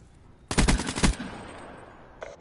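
A short burst of rapid automatic gunfire in the video game Call of Duty Black Ops, a loud rattling volley of several shots lasting about half a second, followed by a faint later report.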